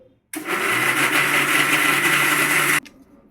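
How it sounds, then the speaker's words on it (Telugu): A mixer grinder runs at full speed blending tomatoes into a smooth paste, a loud steady whirring whine that starts abruptly, holds for about two and a half seconds, then cuts off into quiet. "చాలా అంటే చాలా మెత్తగా గ్రైండ్ చేసేసాను"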